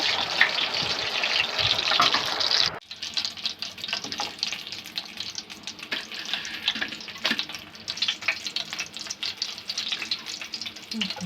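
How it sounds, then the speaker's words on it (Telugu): Fish pieces frying in oil, a dense hissing sizzle that cuts off abruptly partway through, then gives way to quieter clinks and soft kitchen handling noises with a faint sizzle. "ఇప్పుడు మిగిలిన పీసెస్ కూడా ఫ్రై చేసుకుందాము"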